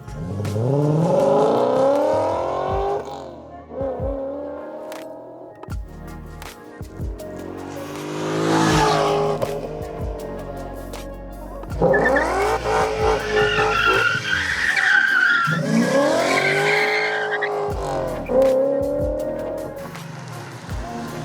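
A BMW E39 540i with its exhaust modified revs and roars as tires squeal and skid repeatedly, long screeching passes rising and falling, loud and close.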